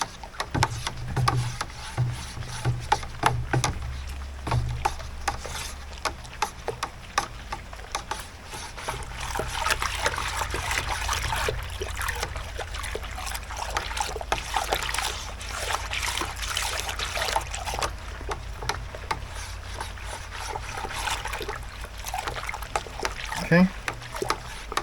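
Cream ale wort splashed and sloshed to aerate it during homebrewing, a continuous close trickling and splattering of liquid with someone talking over it at times.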